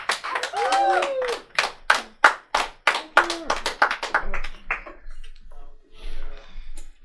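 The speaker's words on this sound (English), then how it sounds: "Give a round of applause." Scattered hand claps, sharp and irregular, mixed with voices and whistles at a live comedy show, fading toward the end as a voice speaks.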